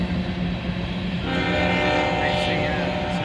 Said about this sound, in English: This is a unit frac sand train right here.